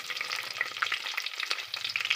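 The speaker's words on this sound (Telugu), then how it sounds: "ఫ్రై అయిన తర్వాత ఆనియన్స్ వేస్తున్నానండి." Chopped onions fry in hot oil with tempering spices, a steady close sizzle with light stirring scrapes throughout.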